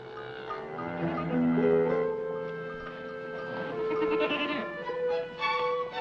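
A goat bleats in a long, wavering, nasal cry that rises and falls, up close and loud, followed by further shorter bleats, with light background sound and no clear talk.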